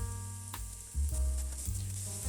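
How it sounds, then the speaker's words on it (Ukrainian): Chopped onion sizzles steadily in hot oil in a pan, a continuous close crackle with a few brief stirring bumps, no voices. "Зараз ми її буквально до напівготовності обсмажуємо"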